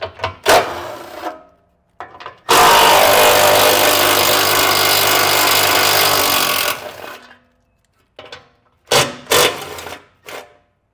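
A power tool loosens the three 13mm head bolts on the passenger-side heat shield under a 2024 Chevrolet truck, with short bursts, then a loud sustained whir of about four seconds, then more brief close bursts.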